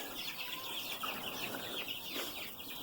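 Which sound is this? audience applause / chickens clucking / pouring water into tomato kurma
chickens clucking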